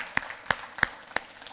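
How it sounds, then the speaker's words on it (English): At a sales-pitch training session, four crisp, evenly spaced hand claps sound close and distinct over a quiet room, without any sustained crowd applause. "A big round of applause for Asfan."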